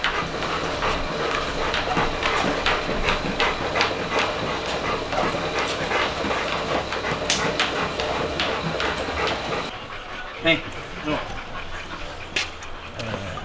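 A Rottweiler walks on a running treadmill, the motor and belt producing a steady mechanical whir with rhythmic thumping footfalls and some panting, loud and continuous, dropping to quieter scuffs near the end.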